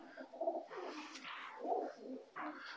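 Szmaragd-line pigeons coo in soft, rounded bursts, several low calls close by, repeating with short pauses.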